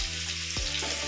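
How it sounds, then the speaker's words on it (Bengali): Chopped onions sizzle in hot oil in a pan for a Bengali yogurt chicken curry, a close, continuous frying hiss with a brief stir or scrape partway through. "তারপর পেঁয়াজ কুচিগুলো তেলের মধ্যে দিয়ে দিলাম"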